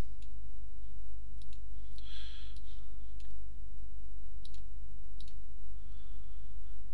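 Sharp computer mouse button clicks, a few isolated taps and quick double clicks spread over several seconds against a steady low hum.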